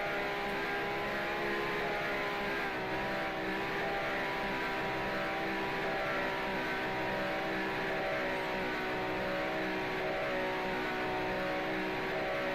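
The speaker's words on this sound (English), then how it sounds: "I start hearing his engine now." A 1967 F1 race car engine in the Grand Prix Legends video game howls continuously at high revs, with a steady, dense harmonic drone and no talk.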